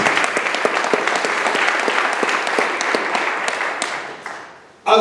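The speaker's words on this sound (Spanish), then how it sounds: "Dele palmas al Señor" Church congregation applauding together, a dense, loud burst of clapping that holds steady and then fades out toward the end, with no talking over it.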